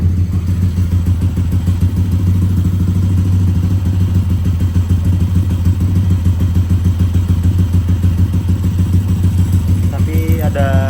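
A Yamaha Aerox scooter engine, repaired with a new spark plug, runs steadily at a close, loud idle with a constant throbbing rhythm and faint mechanical clatter throughout.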